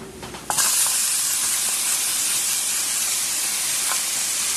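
Tomatoes hit a hot frying pan for pasta with mozzarella and tomato sauce, bursting into a loud, steady steam-like sizzle that starts abruptly and holds evenly.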